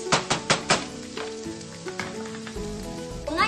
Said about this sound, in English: Now that the onion is pretty much cooked, you can add your tomatillos. And let it cook for another 2 minutes.